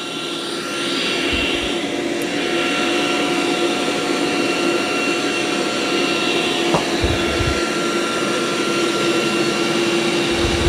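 A Dreame L20 robot vacuum runs loudly with a steady whirring, jet-like roar and a high whine, constant throughout, with a few faint low thumps as it moves.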